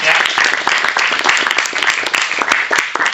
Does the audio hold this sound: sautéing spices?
no